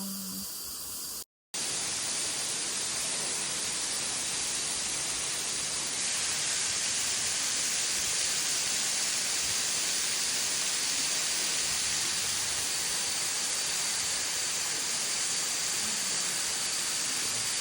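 A long curtain-like waterfall at Wat Tham Soda in Roi Et, Thailand, pours as a steady, loud, broadband hiss of falling water that continues unbroken after a brief cut near the start.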